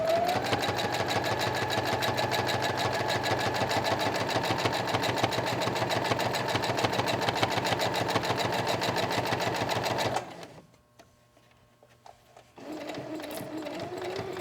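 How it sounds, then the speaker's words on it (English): A sewing machine fitted with a zipper foot stitches around fabric and piping, running at a fast, steady, even rhythm, then stops briefly and starts up again. "We're using a zipper foot. And we're just going to go ahead and just sew around."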